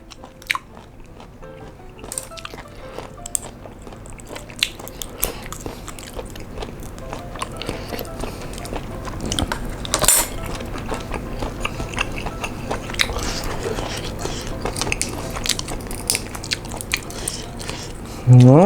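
Crunchy sweet Babylon snails chewed up close, with steady biting and crunching under a constant low background hum, and a louder burst near the end.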